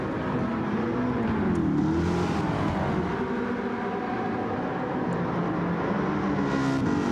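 A Maserati GranTurismo S engine in a racing video game, racing at Lago Maggiore, drones steadily with its pitch swooping up and down through gear changes, continuous and moderately loud, with no voices.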